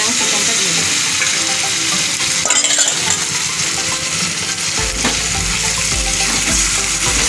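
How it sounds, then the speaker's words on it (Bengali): Masala-marinated chicken frying over browned onions in a pan, hissing and sizzling at close range while being stirred, with scraping and clinking of the utensil. It is loud and continuous, and no one talks. "এবার আমি চিকেনটা দিয়ে দেবো।"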